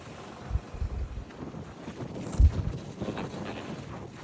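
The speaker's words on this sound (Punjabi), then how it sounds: "ਬਾਲੀ ਤੇਜ਼ ਹਵਾ ਚੱਲਦੀ ਹੈ" Gusty wind buffets the microphone with low rumbling bursts and irregular thumps over a paddy seedling nursery field, a rough outdoor roar with no voices.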